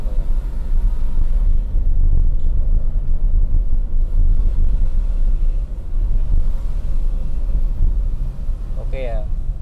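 A Toyota Agya 1.0 in second gear labours up a steep old mountain road, its engine a steady, loud low rumble with wind buffeting throughout and a brief chirp near the end.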